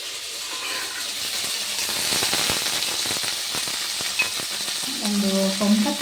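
Pre-boiled mutton frying in a pan for nati-style mutton chops makes a loud, continuous sizzle with crackling pops and scraping stirs. A brief tonal scrape comes near the end.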